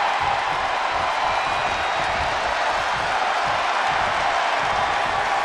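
A steady, dense crowd roar fills a virtual wrestling arena in WWE 2K24 during an NXT Championship match, a constant wash of cheering with no breaks and no clear peaks.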